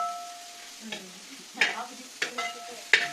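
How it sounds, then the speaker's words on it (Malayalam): Beef curry is stirred with a spatula in a pan, giving several short scraping strokes with a light sizzle between them, close and moderately loud. "അത് ഇളക്കി വിടണം ചട്ടം കൊണ്ട് ഇളക്കി വിട്ടോ ഇളകട്ടെ"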